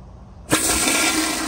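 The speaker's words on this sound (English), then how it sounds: "here's another flush" A 2009 Gerber Ultraflush rear-outlet toilet flushes with a sudden loud pressurized whoosh after a quiet moment, then a sustained rushing hiss of water up close.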